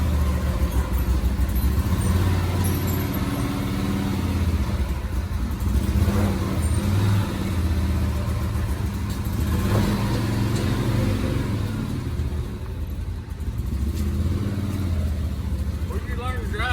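A side-by-side utility vehicle drives with a steady, loud engine drone and rumble running throughout, with people talking over it.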